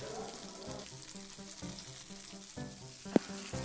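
Chopped eggplant and beans fry in a pan for a vegetarian Bengali vegetable dish, giving a steady close hiss of oil, with spoon scrapes and one sharp clink as they are stirred.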